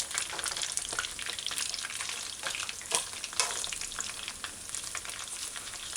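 Fish chunks fry in oil in a pan on medium-low heat, a steady crackling sizzle close up, with scattered sharper pops and spits.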